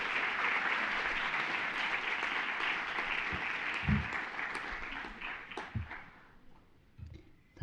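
Lecture-hall audience at the Pietro Belluschi Lecture applauds to welcome architect Sir David Chipperfield, a full, sustained round of clapping that slowly thins toward the end with a few scattered louder claps.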